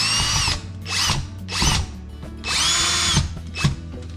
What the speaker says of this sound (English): center the outlet in the box and screw it in place.